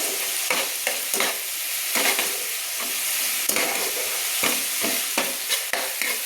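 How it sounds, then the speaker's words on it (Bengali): Ground spices blended with water are stir-fried in hot oil in a wok, producing a loud continuous sizzle broken by repeated scraping strokes of a spatula at an uneven rhythm, with no talking. "গুঁড়ো মশলাগুলো আমি কড়াইতে দিয়ে আমি মশলাগুলো কষিয়ে নিচ্ছি"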